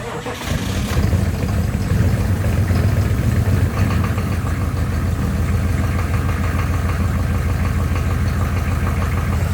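A 1994 Chevy Silverado 1500 with an old 6.5 liter diesel cranks and catches about a second in, then settles into a loud, steady, knocking diesel idle that runs on alone.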